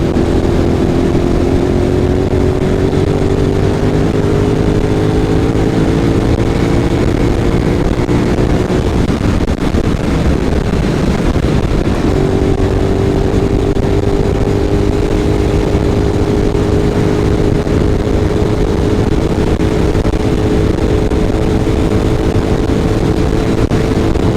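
A Honda VTR 250 motorcycle engine runs steadily for the whole stretch, a droning idle with a brief dip in the middle before settling back to the same even hum.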